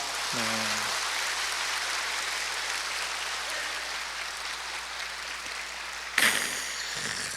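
Sustained audience applause fills a church lecture hall after a Bible history talk, a dense steady patter of many hands continuing for several seconds before a brief bump of noise near the end.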